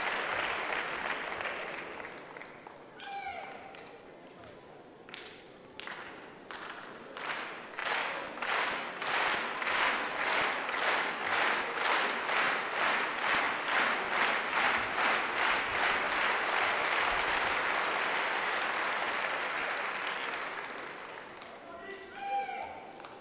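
A big crowd at a mixed doubles badminton match at the French International in Orléans breaks into rhythmic unison clapping that swells, holds steady for several seconds, then fades, with a commentator talking before and after.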